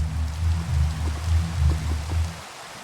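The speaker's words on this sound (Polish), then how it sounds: "Czemu deszcz pada?" Steady rain patters with a low, rhythmic rumble underneath. It sounds synthetic and game-like and stops abruptly at the end.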